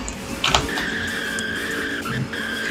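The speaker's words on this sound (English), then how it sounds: "Gotta warm up the tires." Car tires squealing as they warm up before a race in a video game pitting a 2021 Chevrolet Corvette C8 against a 2006 Ford GT, a sustained high screech over engine drone, no talk.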